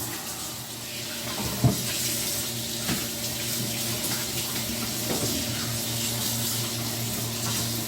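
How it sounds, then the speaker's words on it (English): Water runs steadily from a kitchen tap as hands are rinsed under it, a continuous splashing hiss with a few small clunks against the sink. "Try to rinse these hands off a little bit."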